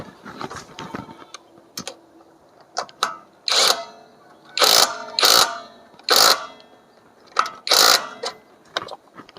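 An OSUKA OSID-520 cordless impact wrench fires repeated loud, close bursts of rapid hammering, some long and some short, separated by brief pauses and mechanical clicks.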